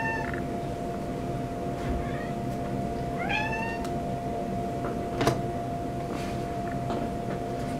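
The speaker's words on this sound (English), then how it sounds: "Now he wants to meow." A cat meows a few times at close range, short rising cries over a steady electrical hum.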